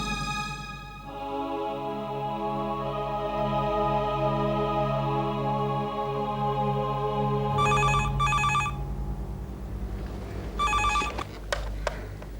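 A telephone rings in a Hindi TV drama scene, electronic bursts of trilling rings sounding twice around the middle and again near the end, over a steady background music bed.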